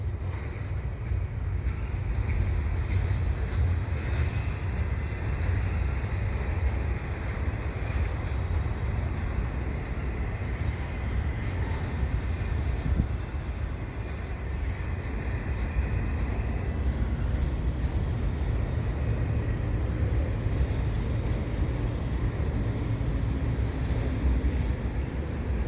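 Continuous low rumble and rolling clatter of a slow-moving CP freight train passing nearby on tight curves by the Dorval bike path, steady for a long stretch with wind noise on top.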